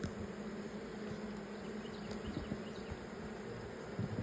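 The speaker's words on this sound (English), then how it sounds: "Oh boy, there's a bee trying to sting my neck. Oh, I hear it buzzing." Honeybees buzz steadily and close by while a beehive is opened and inspected, a continuous insect drone with no voices over it.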